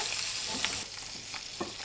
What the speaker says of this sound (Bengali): ভাজছি কিন্তু আমরা শ্যালো ফ্রাই হ্যাঁ একদম ডিপ ফ্রাই না সেটাই খুব অল্প তেলেই আমরা ভাজছি